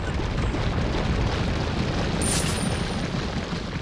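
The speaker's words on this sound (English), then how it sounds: "So that incendiary grenade might have been a waste." An incendiary grenade goes off in Resident Evil 4, Separate Ways chapter, a loud, sustained roaring blast that fills the whole stretch with dense noise and a brief high crackle near the middle.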